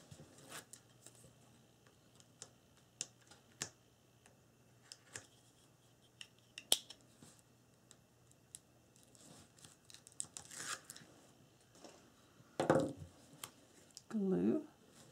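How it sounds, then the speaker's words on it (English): Tape is peeled off paper craft pieces for a mini album: faint ticks and rustles, then two short ripping, crinkling bursts near the end, with some talking. "let's take the tape off of these"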